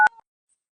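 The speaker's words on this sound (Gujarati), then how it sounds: "ખમ હું મારા ભાઈને ફોન કરી લઉં." Phone keypad dialing tones as a call is placed: one short clear two-tone beep followed by a brief softer tone, then silence, close and clean with no talking.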